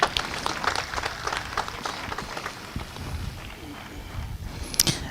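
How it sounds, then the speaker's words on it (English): Audience clapping at a university graduation ceremony, a broad, uneven patter of many hands that softens toward the middle and swells briefly near the end, with faint crowd murmur underneath. "I would like to ask us to clap for God."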